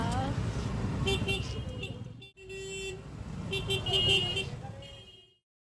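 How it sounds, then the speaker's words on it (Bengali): Traffic jam on city streets during the festive pandal season, a dense rumble of idling cars and engines with scattered horn toots rising over it, voices talking throughout, fading out at the end. "জ্যামের মধ্যে ফেসে গেছি আমরা।"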